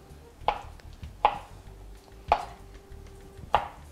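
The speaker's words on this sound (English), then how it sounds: "So I'm going to cut it up into chunks, and then I would cut these pieces into thirds" A kitchen knife cuts through raw chicken on a cutting board, making four distinct chopping thuds spaced about a second apart, close and clear with no voices.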